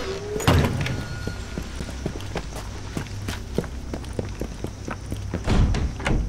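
A door in Resident Evil 3 thuds and rattles amid heavy footsteps, with a couple of louder bangs near the start and end and scattered knocks between.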